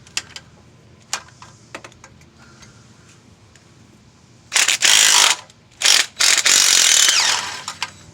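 A DeWalt power tool ratchets during lifter work on a Chevy truck: soft scattered clicks at first, then loud close bursts of rapid whirring ratcheting broken by short pauses.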